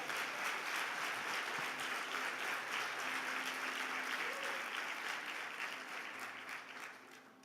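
Congregation applauding during a Sunday church service, a steady wash of many hands clapping, moderately distant and even, fading slightly toward the end.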